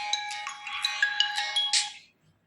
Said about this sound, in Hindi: फ़ोन शैंकी का ही आ गया।